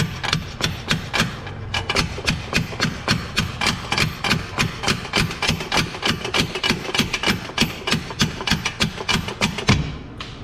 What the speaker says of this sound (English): I'm gonna have to employ some mini tappy taps if I can get a swing on it.